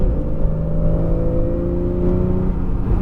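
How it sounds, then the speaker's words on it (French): Porsche 911 Carrera S on a race circuit, engine heard from close by with a steady droning, gradually rising tone as it accelerates, no talk. "Et là, tu peux accélérer."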